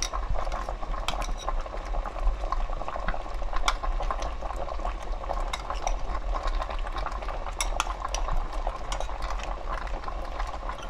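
A pot of spicy braised butterfish with radish bubbles and boils vigorously up close, a dense, steady crackle of bursting bubbles with occasional sharper pops throughout, no speech.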